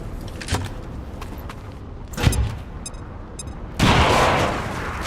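Bomb blast in the XCOM 2 video game: after a few sharp clicks and a thud, a loud broad explosion bursts in and rumbles on, fading slowly.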